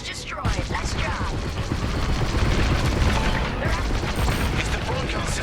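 Dense enemy laser fire in a Star Wars: Squadrons space battle, a continuous barrage of rapid zapping bursts and booms, loud and steady throughout with no break.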